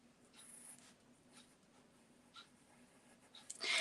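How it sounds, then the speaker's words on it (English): A pencil scratches lightly across paper in short, faint strokes, quiet and close, with a louder rustle at the end. "I'm going to take my pencil and I'm just going to draw around"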